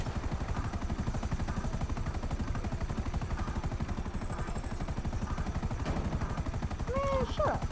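An Akula attack helicopter flies in Grand Theft Auto, its rotor giving a steady rapid chopping thrum that runs throughout at close range, with a voice speaking briefly near the end.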